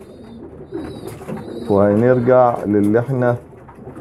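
Pigeons coo in a loud, close, throaty rolling call that repeats a few times, heard under and after someone speaking Arabic about their feed of grain and wheat.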